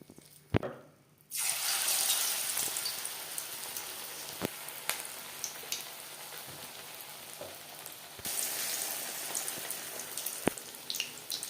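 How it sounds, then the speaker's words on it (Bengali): Tuna fish pakoras frying in hot refined oil over a medium flame, a dense, hissing, rain-like sizzle that swells after a brief quiet start, with occasional sharp clicks and taps throughout, close up and without speech. "তেল আমি হাই ফ্লেমে গরম করে নিয়েছি ভাজবো মিডিয়াম ফ্লেমে"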